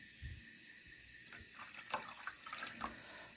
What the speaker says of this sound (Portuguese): no recipiente transparente, eu vou colocar água